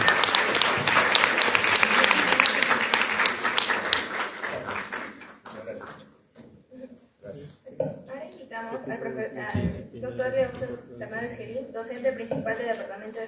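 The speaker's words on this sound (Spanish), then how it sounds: "Ahora pido un aplauso por la respuesta del señor Fernando Tavares" Audience applause for Fernando Tavares at a talk about Chocolates La Ibérica, loud dense clapping for about five seconds that fades out, followed by someone speaking.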